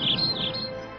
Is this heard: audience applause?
no